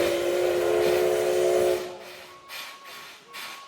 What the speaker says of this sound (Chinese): 鸣笛声加上静驾静驾的蒸汽声